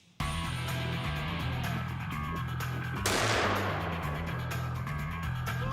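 A powerful revolver fires a single loud, sharp shot partway through, its blast ringing out over a steady low background hum.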